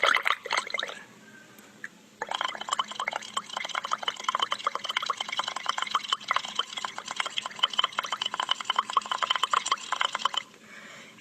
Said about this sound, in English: I'm just going to blow into this straw.